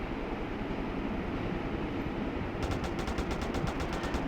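A steady roar of game noise gives way to a rapid burst of automatic gunfire aimed at a police helicopter, sharp repeated shots firing in quick rhythm.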